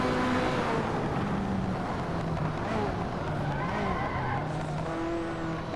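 Race car skidding on locked brakes, tyres squealing in drawn-out, wavering tones over a steady engine and road roar, moderately loud and continuous.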